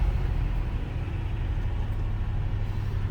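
A 1950 Mercury M74 Sport Sedan engine runs at slightly raised revs, giving a low, steady rumbling idle that is fairly quiet and even throughout, with no talking.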